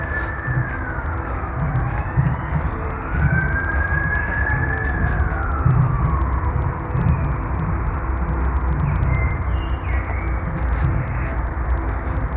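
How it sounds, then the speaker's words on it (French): A distant siren wails up and down under steady outdoor background noise, fading in and out over several seconds. "On a entendu une sirène."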